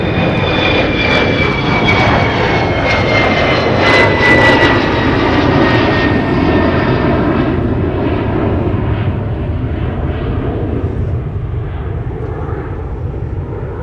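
A Gulfstream business jet takes off from runway 30 left at Minneapolis–Saint Paul airport, its loud, steady engine roar filling the air with a rising whine, then slowly fading as it climbs away.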